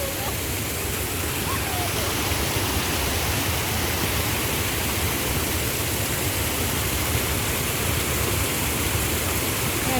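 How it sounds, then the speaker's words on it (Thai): A waterfall roars as a loud, dense, steady wash of falling water that fills the whole clip without a break, at a stream where people are fishing. "น้ำตก"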